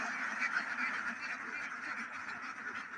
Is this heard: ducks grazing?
yes